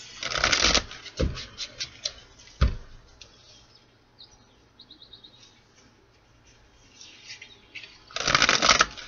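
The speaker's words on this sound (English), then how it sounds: "Two more shuffles, my guides." A deck of oracle cards is shuffled in close, crisp riffling bursts at the start and end, with a few sharp taps between and a quieter rustling stretch in the middle. No one speaks.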